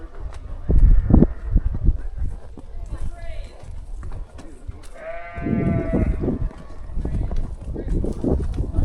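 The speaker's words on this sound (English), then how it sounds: "These are the sheep that he tends to." A herd of sheep grazing in an aspen grove high on a mountain bleats near and far, and a drawn-out bleat stands out midway. Pack mules clip-clop and people talk over the herd.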